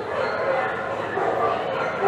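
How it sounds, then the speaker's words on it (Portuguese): Dogs barking and yipping as part of the Remy's Ratatouille Adventure dark ride at Epcot, short yaps mixed into a busy wash of ride effects and crowd chatter. "Os cachorros."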